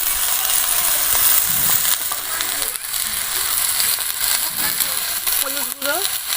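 Ginger and cumin paste hits hot oil for a village-style catfish curry, giving a steady crackling sizzle close by with occasional clinks of a utensil against the pan.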